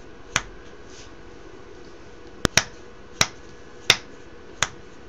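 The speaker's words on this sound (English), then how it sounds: "make input high, snapping my fingers." Fingers snap into a microphone on a workbench electronics setup, six sharp isolated snaps spaced irregularly over a steady low hum, close and clear with no talking.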